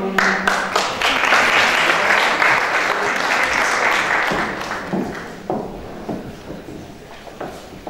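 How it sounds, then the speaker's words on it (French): Audience applause for a Miss Picardie 2018 pageant candidate, loud clapping that swells early and slowly thins out, ending in scattered individual claps. "je vous demande vraiment de les applaudir pour les encourager"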